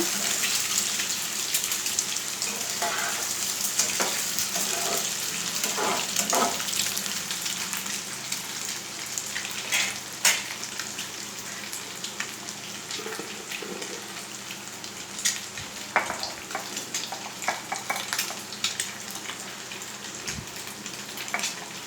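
Egg fry being stirred slowly in a pan: a continuous, close, wet sizzle with scattered soft scrapes and clicks of the utensil, steady for a long stretch with no voices.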